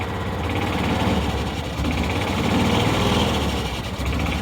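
Small engine of a John Deere Gator utility vehicle warming up on half choke on a cool day, running with a steady, buzzy idle throughout, close and continuous.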